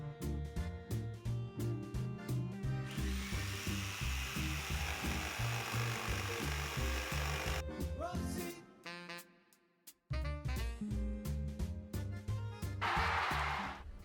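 A Sawzall reciprocating saw cuts through tree branches with a loud, rapid, rhythmic buzzing that drops away briefly around the middle and then starts again at full strength.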